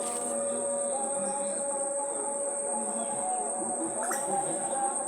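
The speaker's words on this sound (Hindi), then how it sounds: "पक्षियों की आवाज़ है ये।" Birds call among the trees of Akhtwara, a calm village in Bihar, with scattered chirps over a continuous high, shrill insect-like whine that holds steady the whole time at moderate loudness.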